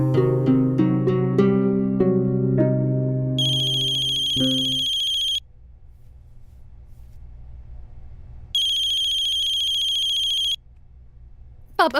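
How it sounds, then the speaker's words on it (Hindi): A telephone ringtone plays loudly and close, a melodic tune followed by repeated high electronic ring bursts with short gaps, no talking over it. "पापा प्लीज फोन मत उठाना,"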